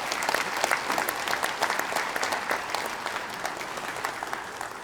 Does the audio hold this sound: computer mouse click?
no